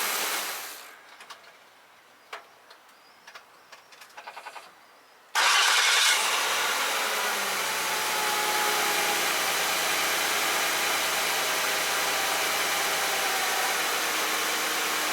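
A Jaguar X-Type engine, fresh spark plugs and coils fitted, cranks after a few quiet clicks and catches abruptly, then settles into a steady, even idle that runs on alone and close by.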